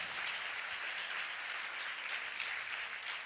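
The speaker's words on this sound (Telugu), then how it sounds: "చప్పట్లు కొట్టండి గట్టిగా" A church congregation at a Sunday service clapping together, a dense continuous wash of applause, moderately distant and steady throughout.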